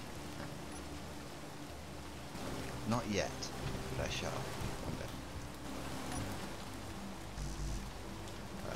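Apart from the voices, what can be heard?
rain falling in video game Space Engineers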